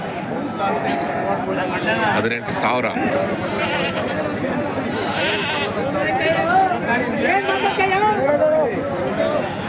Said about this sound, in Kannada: ಸಂತೆ ಜೋರಾಗಿದೆ ಈ ಸಲ.